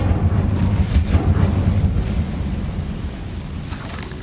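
Incendio fire spell going off in a Harry Potter video game, a loud rumbling whoosh of flame with low roaring bursts that swell early and gradually settle, no voices over it.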